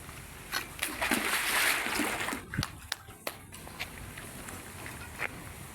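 CLC lightweight concrete blocks splash into water at a block yard in Karachi, a burst of sloshing and splatter followed by scattered drips and knocks, with workers talking nearby.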